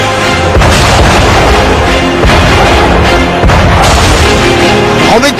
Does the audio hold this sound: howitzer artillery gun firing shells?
yes